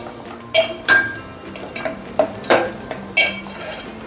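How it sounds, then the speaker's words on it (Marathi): Masala paste sautéing in oil in a pan for a spicy mutton rassa, with a spoon scraping and clinking against the metal in quick irregular strokes over a soft sizzle. "वाटण टाकते परतून घेते तेलावरच"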